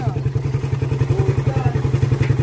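A motorcycle engine idles and chugs steadily at close range, with a rhythmic pulsing thump during a riding lesson as the rider shifts into first gear; faint talk sits in the background.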